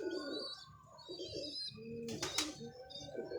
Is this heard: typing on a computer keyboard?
no